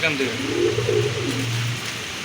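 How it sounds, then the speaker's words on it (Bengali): A pair of Rajgolla pigeons for sale give low, rolling coos close by, repeated over a couple of seconds beneath a steady background hum. "আর এই যে দেখেন কবুতর জোড়া এটার দাম পড়বে একদম দুই হাজার টাকা"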